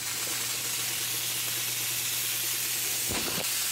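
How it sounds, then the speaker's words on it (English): A Decent espresso machine vents steam in a steady, loud hiss during a factory steam test. A brief thump comes near the end. "That's a test to make sure that steam is right"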